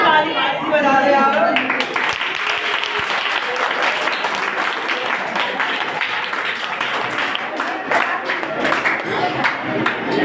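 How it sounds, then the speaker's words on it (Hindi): An audience at a Teachers' Day program claps together in sustained, steady applause after a brief voice, many hands loud and close throughout. "ताली बजा दे यार"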